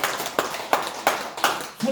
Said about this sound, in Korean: 우리 하나님께 한번 영광의 박수를 드리겠습니다